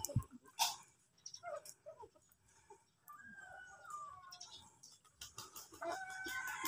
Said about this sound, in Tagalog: nagpapatukan po si Igoy ng manok